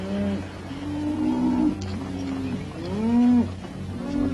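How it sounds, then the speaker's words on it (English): Several deep, drawn-out lowing calls from a herd of cattle overlap one another, rising and falling over a steady background rumble. "Keep the cattle moving."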